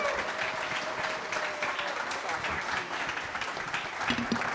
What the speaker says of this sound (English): Give it up for our panel.